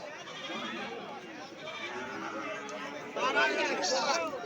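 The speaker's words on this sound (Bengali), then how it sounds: "এ দেখেন অনেক সুন্দর সুন্দর ছাগল এবং খাসি আসছে সোনাপুর হাটে" Goats bleat repeatedly amid a busy crowd's chatter, with overlapping animal calls and voices filling a lively open-air weekly livestock market at Sonapur, selling goats and sheep ahead of Eid al-Adha.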